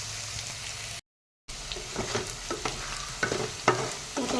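Chicken meat frying in oil for a chicken curry, a close sizzle with scraping stirring strokes after a brief silent gap.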